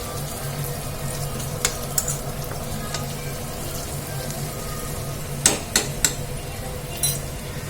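Fenugreek leaves fry in a pan for a tomato and red chilli chutney, making a continuous low sizzle with occasional sharp metallic taps and scrapes from a spoon against the pan.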